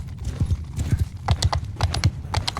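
A galloping horse's hoofbeats in the video game Mount and Blade II Bannerlord: rapid, rhythmic clip-clops, loud and close, over a continuous battle din.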